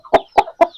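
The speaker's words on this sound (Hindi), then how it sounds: "ये बिल्कुल प्योर रत्तू मुर्गों में से है।" Aseel fighter chickens, a Pakistani breed, give four short, close clucks in a quick, evenly spaced series.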